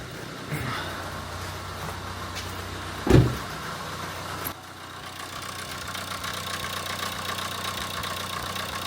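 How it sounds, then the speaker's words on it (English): A car engine idles with a rattling timing chain, a steady low mechanical hum carrying faint metallic chatter, broken by one brief louder knock partway through, with no talk. "That chain is still rattling."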